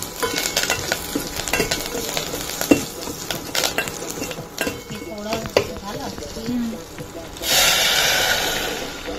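Green chilies and curry leaves hit hot oil for a buttermilk tempering, with stirring and light crackle under a voice, then a sudden loud hissing sizzle bursts up near the end.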